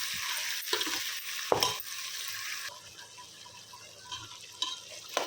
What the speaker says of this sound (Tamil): இது ஒரு அஞ்சு நிமிஷம் வதங்கட்டும்